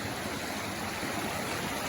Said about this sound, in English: here's our first brook or stream we've come across on our way up